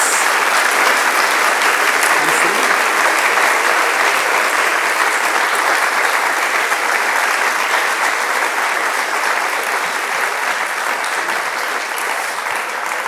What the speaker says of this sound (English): Please join me in a round of applause for our great speakers.